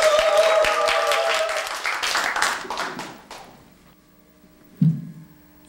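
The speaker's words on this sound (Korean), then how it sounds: "큰 박수로 맞아주세요. 박수 한번 주세요." Brief applause from a studio audience greeting a song on a Korean variety show, loud and dense for about three seconds before fading into quiet with a single thump near the end; a tonal voice or instrument runs under the early claps.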